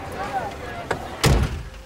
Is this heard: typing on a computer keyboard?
no